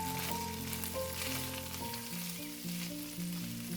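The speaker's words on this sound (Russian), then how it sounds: "Отправляю морковь в сковородку к курице." Thinly sliced carrot frying with chicken in a pan, a steady loud sizzle with occasional stirring scrapes, close and continuous with no talk over it.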